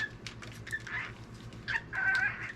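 Pet parrot giving short, bright squawks and chirps in a home kitchen, several quick calls close by over a low steady hum.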